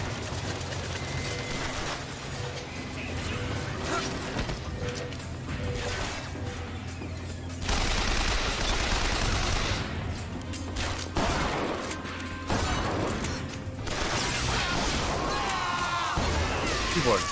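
Shotgun blasts and gunfire in BioShock Infinite, with loud bursts and crashes spread across a chaotic fight amid mechanical clatter and scattered voices.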